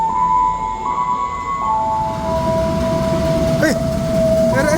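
An airport railway train rolls onto track 3 at a station with a steady low rumble. Sustained whining tones from the approaching train ring over it, with brief metallic squeals near the end.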